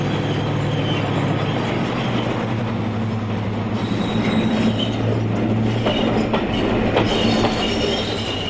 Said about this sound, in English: the same loco comes back with the 725 from Leeds